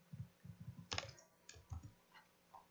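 Close, fairly quiet computer keyboard typing as HTML is entered, a quick run of keystrokes, then a sharper click and a few more scattered taps, with no speech.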